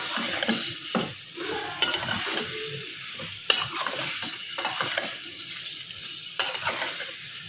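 Potatoes and snakehead fish sizzle in spiced oil in a pan, a steady crackling fry broken by repeated scraping stirs of a spatula, close and fairly loud with no talking.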